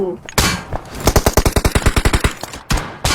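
A loud, close burst of automatic rifle fire in PUBG Mobile rattles off about twenty evenly spaced shots in quick rhythm, followed by a couple of separate single shots.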